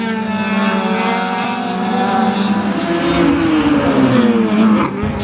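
Race cars roaring past at over 100 miles an hour, a loud sustained engine howl with pitch sweeping downward as each passes close by, no voices.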